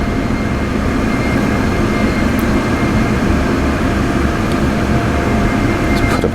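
An F-16 jet engine taxiing on the ground in the DCS flight simulator gives a loud, steady, close engine roar with a deep low rumble that holds constant throughout, with no talk.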